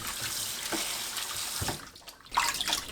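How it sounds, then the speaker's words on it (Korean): Water runs and splashes as dried pollock strips, cut into bite-size pieces for soup, are lightly rinsed, a steady wash with short gaps and a brief louder surge near the end; no one speaks. "물에 가볍게 헹궈주세요."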